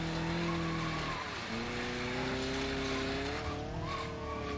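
A damaged car in the BeamNG.Drive driving game, front right tire in bad shape, scrapes along with something dragging underneath; a loud continuous engine drone with grinding and squealing tones that rise and shift throughout.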